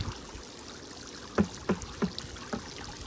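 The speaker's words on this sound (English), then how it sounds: "I'm just going to rinse out the bucket." Water sloshes and splashes as a bucket is rinsed out, with several distinct knocking sloshes in an uneven rhythm over a soft running-water background.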